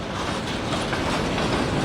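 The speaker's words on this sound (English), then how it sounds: "see up ahead of the locomotives here, this is where they split the train that came up from Mankato." A Union Pacific local freight train with locomotives rolls through Valley Park rail yard near Anchor Glass in Shakopee, giving a loud, steady rumble with rhythmic clickety-clack of wheels on the rails.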